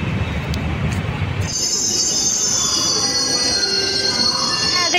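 Delhi metro train wheels squeal loudly and steadily in a high, sustained screech that sets in after a second of rumbling and continues over the low roar of the moving train.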